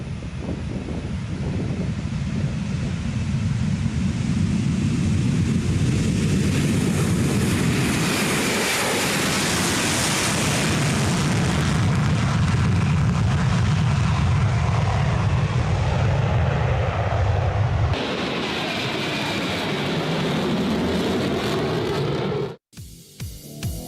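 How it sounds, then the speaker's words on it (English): A B-1B Lancer bomber roars through a takeoff on full afterburners, a loud, sustained broadband jet rumble with wind buffeting that holds steady for about twenty seconds before cutting off abruptly near the end. "B-1B taking off full afterburners."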